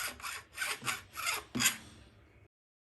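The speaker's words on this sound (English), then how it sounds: "Then I just quickly go over the ends with the file, just to smooth everything down" A metal file rasps across the ends of a wooden guitar neck in four quick back-and-forth strokes, close and clear, with no voices, ending abruptly.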